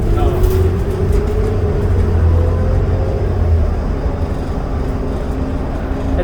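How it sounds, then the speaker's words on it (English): A 2008 New Flyer D40LFR diesel city bus hums with a low, steady engine rumble heard from inside during a ride, fairly quiet for a diesel, with passengers talking over it. "What I like about this bus for a diesel, it's actually pretty quiet."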